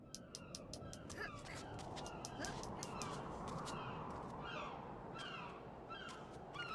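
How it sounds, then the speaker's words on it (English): Gulls call in a PC video game, giving repeated, harsh, squawking cries scattered across the clip. The calls sit over a steady, rushing wind or surf wash and stay fairly faint overall. "I hear the gulls."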